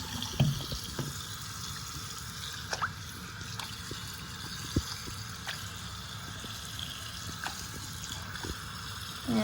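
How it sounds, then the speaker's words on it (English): Water running into a sink or basin to refill it for a rinse, a continuous splashing flow broken by a few sharper drips and clunks, steady and fairly close, with no talk. "then we're gonna fill it up with the same temperature water for a rinse"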